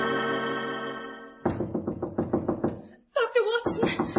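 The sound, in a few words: knocking on a door, radio drama sound effect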